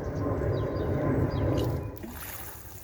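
Water pours steadily onto freshly planted perennial kale in a garden bed, a continuous near splashing trickle that tapers off toward the end.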